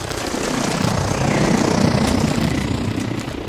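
Aircraft pass overhead in ELEX 2, a loud continuous rumbling engine roar with a broad airy wash that swells slightly in the middle and holds steady throughout.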